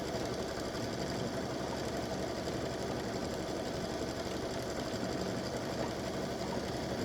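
Embroidery machine satin stitching on white fabric for a patriotic appliqué design, a continuous rapid mechanical whir and needle hum that holds steady and even throughout, close and unbroken.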